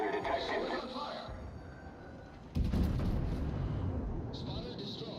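The Italian battleship Roma fires its naval guns in World of Warships, a sudden heavy boom with rumbling decay over game background noise and other effects.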